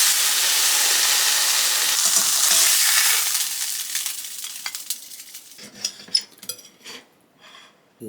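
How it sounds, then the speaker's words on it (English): A ribeye steak sears in a hot pan, giving a loud, steady sizzle that fades over several seconds into scattered crackles and pops as the fat settles. "sear it 30 seconds on each side. Oh, look at that sizzle."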